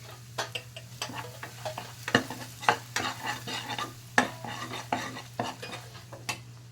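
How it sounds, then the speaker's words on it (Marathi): Cumin, red chili powder and peanut powder fry in hot oil in a kadhai, giving a soft sizzle under a low steady hum with repeated sharp scrapes and clinks of a spoon stirring against the pan, no talking. "तेल तापलेलं आहे कढीमध्ये जिरे घालू त्याच्यानंतर लाल तिखट घालू शेंगदाण्याचा कूड घालू"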